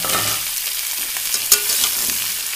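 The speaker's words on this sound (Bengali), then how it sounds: "ফুলকপি আর মূলো দিয়ে দিচ্ছি।" Cauliflower and radish pieces frying in a wok, a loud, constant hiss of hot oil with a single clear spatula knock partway through, heard up close and alone.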